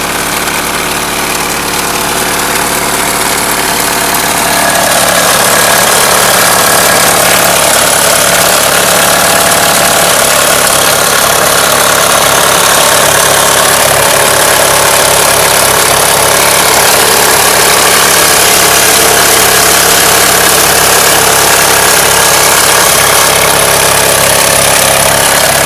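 Loud, steady knocking from the timing belt area of a 1997 Mitsubishi Eclipse engine, a rapid, even mechanical tapping over the idle, heard up close throughout with no talking.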